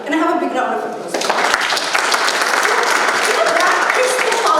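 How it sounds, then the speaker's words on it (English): Audience applause at an MFRT 2019 session in Hyderabad, a dense, steady wash of clapping that swells after a moment and holds loud throughout, with a voice talking over its opening. "Can I have a big round of applause?"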